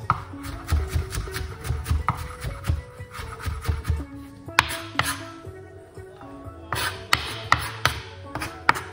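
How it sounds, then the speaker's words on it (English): Garlic being chopped on a cutting board with a knife, a rapid series of close, crisp knocks in irregular bursts, pausing briefly before resuming. "cut up your garlic, don't be shy"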